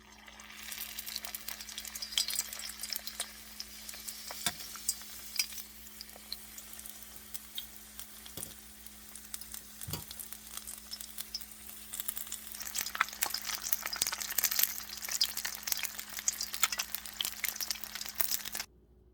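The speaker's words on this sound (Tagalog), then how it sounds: "So guys, magpiprito na tayo." Crab rangoon deep-fries in hot oil, a faint, continuous crackling sizzle with scattered pops and sharper crackles, growing busier toward the end, with no talk.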